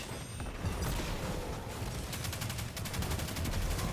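Rapid gunfire from the Destiny 2: The Witch Queen video game crackles in dense bursts, with sharp clustered shots growing into fast repeated volleys toward the end under a rumbling background of game noise.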